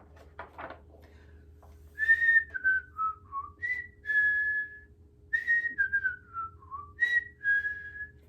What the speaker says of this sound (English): He's whistling in my ear.